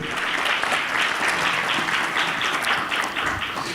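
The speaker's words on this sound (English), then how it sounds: "Sous vos applaudissements, s'il vous plaît." An audience at a forum in Djibouti breaks into loud, sustained applause welcoming a minister to a panel discussion, dense clapping holding steady from start to finish.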